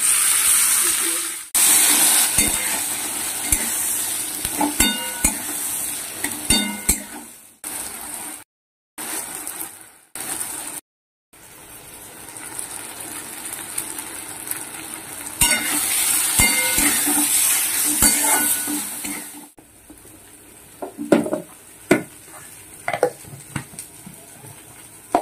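Food frying in a pan gives a low, steady sizzle and hiss, broken by intermittent stirring scrapes and light clinks of utensils on the pan. A few short silent gaps interrupt it, and the activity picks up toward the end.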